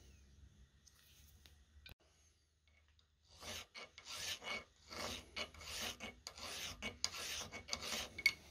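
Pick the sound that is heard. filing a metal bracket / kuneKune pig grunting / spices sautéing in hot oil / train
filing a metal bracket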